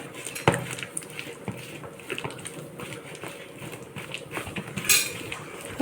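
A spoon stirs jaggery syrup into a thick mixture in a metal vessel, with repeated clinks and scrapes against the sides and a soft wet slosh, close and continuous at a moderate level.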